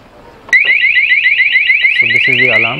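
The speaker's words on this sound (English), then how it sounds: "So this is the alarm. It goes off after some time." A Roots Gladiator 2 motorcycle security alarm suddenly blares, warbling rapidly and loudly without pause, joined near the end by a lower repeating siren tone.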